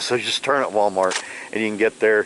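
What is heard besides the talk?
No everyday noises stand out.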